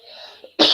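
A single sharp cough closing a short, faint throat sound, loud and close at the end.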